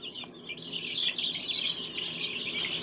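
Baby chickens chirp continuously while being handled, a dense, close stream of high-pitched peeping with small rises and falls in loudness.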